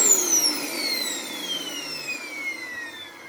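Iona Fantom Lightning LC63K vacuum cleaner with a 12 amp motor, a high whine winding down in pitch with a steady airy roar underneath, close and loud, no talking.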